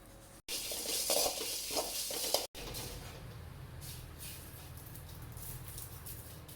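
Coriander seeds and asafoetida roast in a dry pan, giving a bright rattling stir at first, then a softer, steady crackle with light scraping after a brief cut, and no voices.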